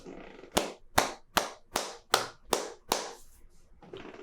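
A single person claps hands slowly and deliberately, seven or eight sharp, evenly spaced claps ringing close in a quiet room.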